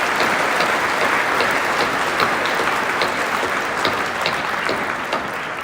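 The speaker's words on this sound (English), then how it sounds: "please take a moment and give them a round of applause" A conference audience at GS1 Connect 2023 gives sponsors a round of applause, dense, even clapping from a large room that holds steady for several seconds.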